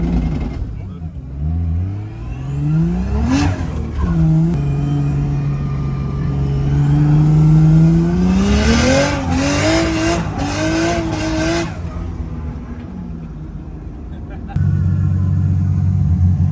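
Drift car at a Friday night drift event, engine revving up and down in rising sweeps with tyres squealing through a long slide, loud and close, followed by a heavy steady rumble.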